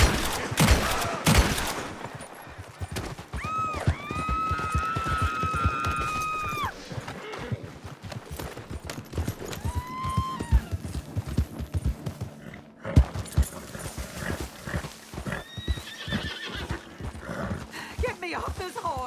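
Horse hooves clop steadily through a Red Dead Redemption 2 scene, with a couple of whinnies rising partway through, mixed under frequent game dialogue and other effects.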